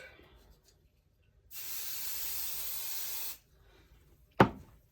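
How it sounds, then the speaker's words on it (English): A near, steady hiss of basting adhesive sprayed from an aerosol can onto felt for about two seconds, then a sharp knock, otherwise quiet. "So I use a basting adhesive. It's great for bonding the felt"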